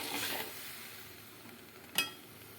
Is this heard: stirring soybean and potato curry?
yes